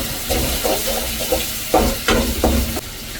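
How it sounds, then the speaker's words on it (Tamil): Onions sautéing in a pan, lightly salted, for a bachelor-style prawn thokku, with a steady sizzle and several sharper bursts of frying as they are stirred. "வெங்காயம் வதக்கும் போது லைட்டாக உப்பு சேர்த்துக்கலாம்."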